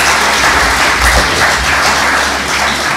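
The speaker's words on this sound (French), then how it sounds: "Je vous demande d'applaudir merveilleusement le professeur Souleymane." An audience applauds Professor Souleymane in a hall, with dense, sustained clapping that stays loud and steady from start to finish.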